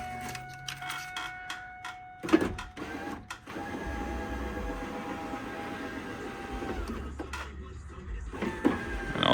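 An electric window motor in a Pontiac Trans Am, fresh from repair, drones steadily for several seconds as it raises the window, with a low mechanical hum and faint clicks nearby.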